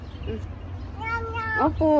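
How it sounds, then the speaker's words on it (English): A cat in a park gives a few short meows, the clearest ones near the end, close by over steady outdoor background noise. "That's a cat."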